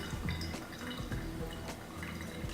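Brewed pour-over coffee drips through wet grounds into the cup below. Small, irregular drips patter quietly and close by, with no talking.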